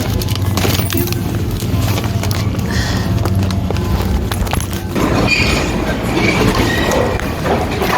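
A subway train near the Coney Island station in Brooklyn rumbles and clatters loudly with rhythmic clicking of wheels over rail joints, close and steady throughout, with no talking.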